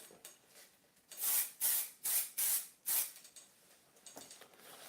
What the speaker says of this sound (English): now I spray fix.